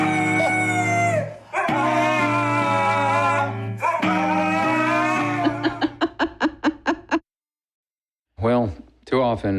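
A dog howls and whimpers in long, wavering cries, then breaks into a rapid series of short yelping barks, a pause of silence, and a final burst of cries, loud and close.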